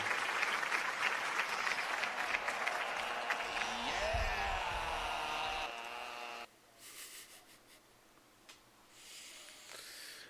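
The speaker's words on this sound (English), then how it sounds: "Let's get a round of applause." A crowd at a live pro wrestling show applauds as the show wraps up, with clapping and a cheer that rise for several seconds and then drop away abruptly. Faint scattered sound follows.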